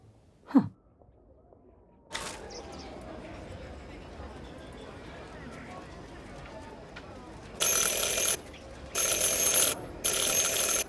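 A counter service bell in Syberia: The World Before, struck three times in quick succession, each ring bright and sustained with a short ringing tail, standing out clearly over quiet room ambience.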